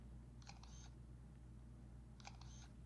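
Shutter of a DigiFilm camera clicks twice, about two seconds apart, each a quiet crisp double snap over a steady low room hum.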